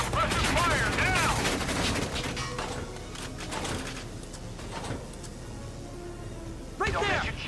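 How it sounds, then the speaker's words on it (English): Enemy gunfire crackles in the video game Valkyria Chronicles 4, with rapid bursts of rifle and machine gun shots at the start and again near the end, mixed with shouting voices and battle noise. "They're firing at me!"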